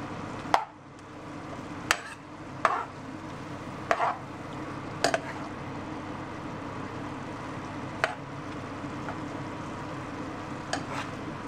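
Morning glory stir-fry with chili tossed in a pan, a steady low sizzle broken by sharp scrapes and clacks of the utensil against the pan every second or two.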